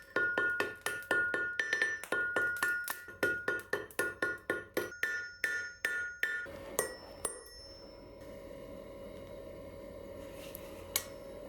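A hammer strikes hot steel on an anvil while forging the end of a bottle opener, ringing out in a quick, regular run of sharp metallic clinks for several seconds, then a few scattered taps, close and clear with no talk.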